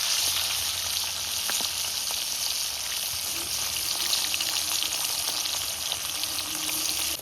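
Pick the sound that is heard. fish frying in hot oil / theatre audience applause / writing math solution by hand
fish frying in hot oil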